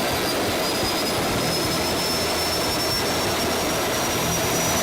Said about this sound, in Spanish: I'm testing this jet engine on 4 different fuels: jet fuel, diesel, biodiesel, and hydrodiesel